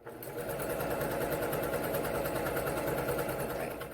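A sewing machine stitches a small fabric key fob in one steady run, a fast even mechanical whir close up that starts and stops cleanly.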